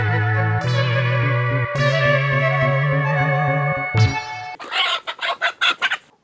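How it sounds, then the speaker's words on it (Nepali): A chicken clucks and crows nearby, with drawn-out calls followed by a quick run of sharp, loud clucks. "होइन, कुखुरा किन यसरी कराएको"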